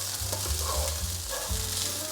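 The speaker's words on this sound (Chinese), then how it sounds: "快速翻炒。" Carrot and potato stir-fried in a wok sizzle loudly and steadily, with scraping tosses of the spatula repeating a few times, close up and with no talking.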